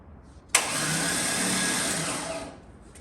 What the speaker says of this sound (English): Crank spinning.